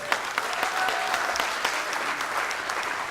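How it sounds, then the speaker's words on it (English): An audience at a folk festival kickoff claps for a guitarist, a dense, fairly soft round of applause holding steady for a few seconds with scattered louder claps. "Give him a round of applause."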